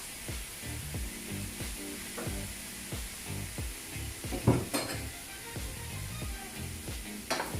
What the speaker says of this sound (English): we're gonna stir fry these babies